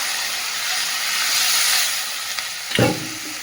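Water poured into fried fish curry spice paste in a pan, giving a broad steady hiss that swells, then a brief louder splash and crackle near the end.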